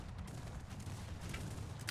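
Cannon fire and canister shot boom in a Cossacks 3 battle, forming a steady, muffled barrage of overlapping distant volleys.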